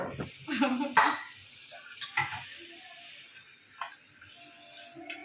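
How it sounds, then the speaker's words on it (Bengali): Dishes, pots and pans being washed at home in a Bengali household, scattered clinks and scrapes of metal utensils with running-water hiss and a few quiet spoken words between. "বাসন মাজতেছি রান্না বসায় দিয়ে"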